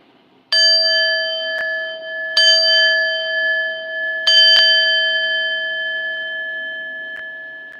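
Chime struck three times at a slow, uneven pace, each bright, clear ring layering over the last and sustaining into a long fading ring-out, loud and close with no voices.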